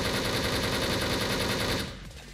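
Rapid automatic gunfire rattles in a dense, continuous stream from a fast-firing dual-wield weapon in the online shooter Wolfteam, loud and close, cutting off abruptly near the end into a quieter tail.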